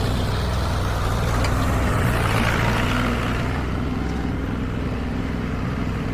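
A tractor engine drones loudly and steadily while pushing a burn pile, a continuous low rumble with no pauses and no talk.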